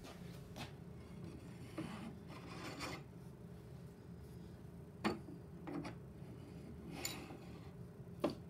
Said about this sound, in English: I needed to slightly sand the front edge of the C4 beam